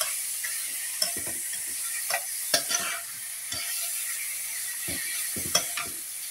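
Food crackles and sizzles in cooking oil, a steady fizzing hiss broken by sharp pops and clicks scattered through the clip, with no voices.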